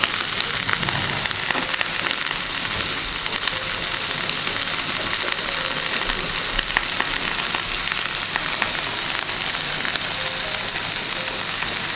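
Fish pieces frying in hot oil in a pan for a fish curry, a steady crackling sizzle with fine popping spatters, continuous and close with no voices.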